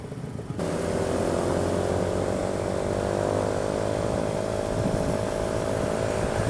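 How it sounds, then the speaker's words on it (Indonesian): A motorcycle fitted with a Pro Speed Black Series exhaust runs steadily at about 7500 RPM, its engine holding a loud, sustained high whine with layered tones and no break, recorded up close while riding. "Nih di RPM 7500 suaranya mulai melengking nih."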